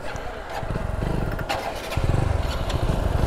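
A Hero HF Deluxe motorcycle's engine revs and pulls away nearby, a steady rising drone with throttle pulses, and a voice is briefly heard over it.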